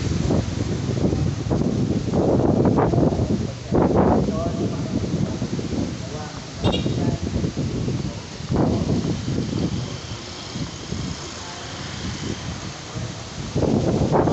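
Strong gusty wind buffets the microphone in heavy roaring bursts outside a church, with people talking underneath.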